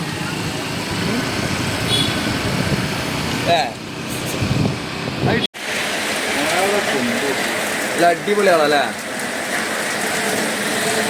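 Heavy rain pours steadily onto a flooded road, a dense close hiss that fills the whole stretch, with a brief break midway and a voice speaking over it at moments.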